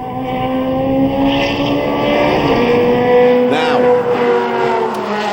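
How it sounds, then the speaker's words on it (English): Ferrari 360 Challenge Stradale engine heard from outside, a loud, high-pitched, sustained wail as the car accelerates and shifts gears at close range, with a single spoken word briefly over it. "That was specifically the Ferrari 360 Challenge Stradale"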